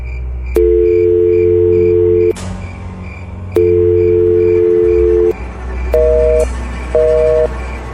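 A phone call fails to connect because the phone is switched off. A loud, steady electronic tone repeats in long beeps, followed by two shorter higher beeps, with a low hum underneath and no speech.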